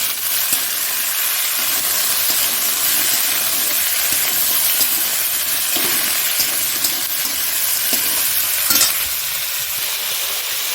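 Bhola fish pieces frying in a pan for a spicy fish curry, with fresh green chillies added: a steady, loud, continuous sizzle and hiss of hot oil throughout, with occasional louder crackles.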